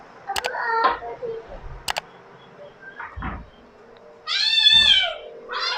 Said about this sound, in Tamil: ஓ, பூனை பூனை பூனை பூனை பூனை